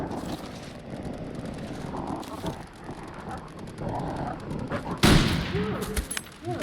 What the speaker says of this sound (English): I shot one of them.